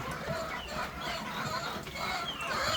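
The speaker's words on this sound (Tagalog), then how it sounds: "Yung manok natin." Chickens cluck and murmur softly in a continuous low chorus indoors on a rainy day, a little distant, with no talking.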